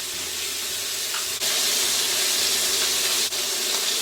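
A whole stick of butter melts in a hot cast iron skillet for filet mignon, giving a steady, loud, bright sizzle and hiss throughout, with a small dip in intensity now and then.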